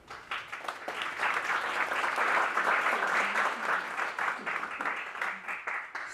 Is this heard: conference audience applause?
yes